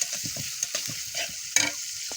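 Fried chilies and onions being stirred in a pan for vegetable khichuri, with a bright close sizzle and several quick scraping stirs, one sharper clatter near the end, and no talking.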